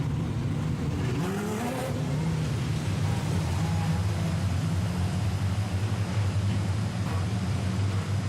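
Speedway race cars roar off the start of the Kurt Murdoch Classic final at Maryborough Speedway, a loud, dense wall of revving engines with brief tyre squeal as the field accelerates away.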